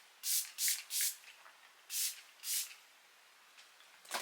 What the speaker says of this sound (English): For today's setting spray, I'm gonna use the Revolution